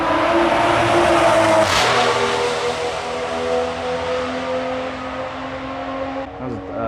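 A newer Toyota Supra sports car drives past a disc golf course. Its engine gives a loud, steady drone that shifts in pitch as the car passes close by, then gradually recedes.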